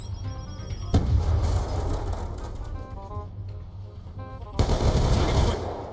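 Gunfire in Call of Duty Black Ops 2, loud close automatic bursts at the start and again near the end, with a steady rattling game din between them.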